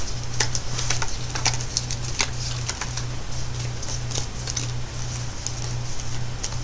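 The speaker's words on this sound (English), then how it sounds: "Shuffle them." Uno playing cards being shuffled, heard as rapid, irregular light clicks and taps over a steady, pulsing low hum, moderately loud with no voices.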